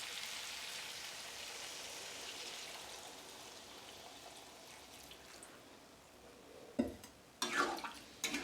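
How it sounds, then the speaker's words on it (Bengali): Lukewarm water poured into a pan of sautéed mixed vegetables, a steady hissing pour fading over several seconds, followed by a few sharp clattering knocks near the end. "এবার আমি এর মধ্যে পরিমাণ মতো হালকা গরম জল ঢেলে দিচ্ছি।"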